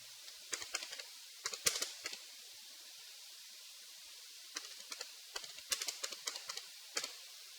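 Light, quick taps on a phone touchscreen keyboard while entering a new list name in a maps app, coming in short irregular bursts separated by a pause, faint and close.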